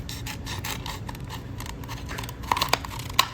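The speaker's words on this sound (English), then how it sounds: "you're gonna get your pair of scissors and just go right down the middle" A pair of scissors cuts straight down the middle of a plastic water bottle with its top and bottom removed, giving faint rubbing and crinkling scrapes, then a few sharper snipping clicks toward the end.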